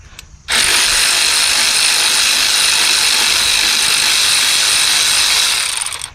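A ratchet spins off a 12 mm nut from the alternator terminal of a 2013–2017 Honda Accord 2.4L, a steady, loud continuous clicking whir lasting several seconds and heard up close with no talking.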